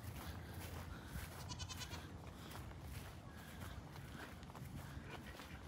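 Goats on a Florida farm bleating among other farm animals, with footsteps and steady outdoor background noise throughout; the calls are faint and mixed into the din rather than standing out clearly.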